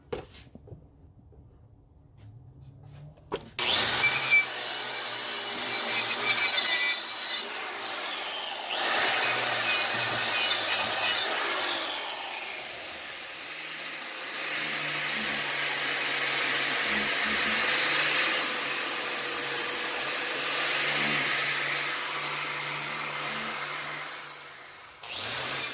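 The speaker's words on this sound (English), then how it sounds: "I'm going to go ahead and wire wheel this out now" A wire wheel scours out the inside of a metal casting flask, starting abruptly after a quiet moment and then running as a steady, loud abrasive whir and hiss for the rest of the time, with small rises and dips in pitch.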